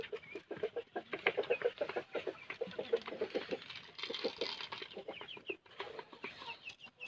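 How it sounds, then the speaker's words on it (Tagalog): A flock of farm chickens, among them upgraded birds and a Rhode Island Red, cluck busily and repeatedly at feeding time, with close, overlapping calls in quick irregular bursts. "upgraded chicken. Saka isang Rhode Island Red."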